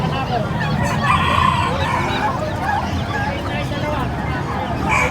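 Silky chickens cluck and chatter nearby amid a busy, noisy background with people talking at a pets and livestock market.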